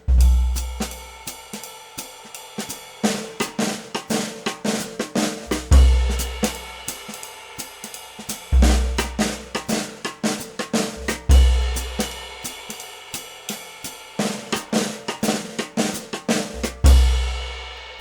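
Drum kit fill built on flam buzz stick shots, closing on the and of four with an anticipated cymbal crash; several repeated phrases of sharp snare and tom hits, each landing on a booming kick and ringing cymbal, played alone and close.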